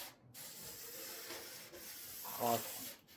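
Sandpaper rubs across a surface in a faint, steady, continuous scratching, with a slightly louder stroke near the end. There is no talk.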